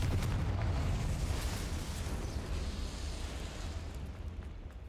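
In Hogwarts Legacy, a Confringo blasting spell detonates with a deep, booming explosion whose rumbling roar slowly fades over several seconds.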